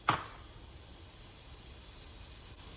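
Cut yams sautéing in a few teaspoons of oil in a warmed pan, with a brief clatter at the start followed by a steady, even sizzle that carries on without pause.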